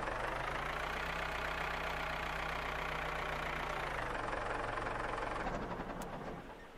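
Mower engine idling in the farming video game Farmer's Life, a steady, moderately loud mid-pitched droning hum that holds constant, then shifts slightly lower and fades near the end.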